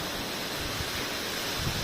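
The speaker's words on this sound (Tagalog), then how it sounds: "Ang lakas ng ulan. Mapagyo. Ayan. Ang lakas ng hangin." Constant heavy rain hisses with strong wind rushing past, a thick unbroken wash of noise with low gusty thumps.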